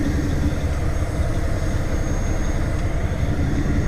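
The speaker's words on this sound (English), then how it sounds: "the exhaust note became more distinct" A heavy haul truck's exhaust, pipe mounted low near the ground, drones in a loud, steady, deep rumble that holds at an even level throughout, with no talking.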